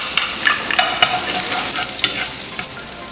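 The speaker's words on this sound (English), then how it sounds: "Take the frying pan, drizzle some olive oil to savor its taste and aroma. Put the shallots in." Shallots sizzling in olive oil in a frying pan, a steady close crackle with brief louder spits and stirring scrapes throughout, no talking.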